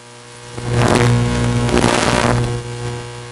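Race cars at a speedway roar as they accelerate at the green flag, a loud engine surge swelling quickly and holding for about two seconds before easing off.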